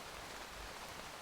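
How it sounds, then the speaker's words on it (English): Steady, broadband hiss of rain falling in a game mission set in fog and fire, continuous and fairly quiet with no voices. "It is very rainy."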